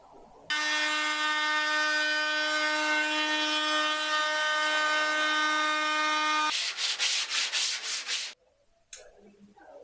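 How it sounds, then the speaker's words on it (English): A power tool cuts a light chamfer along a workbench edge, starting as a loud, steady high whine that holds for several seconds. It then breaks into a quick series of rough pulsing bursts, stops abruptly, and faint handling noise follows. "Now I'm going to move on to putting a light chamfer in the edge"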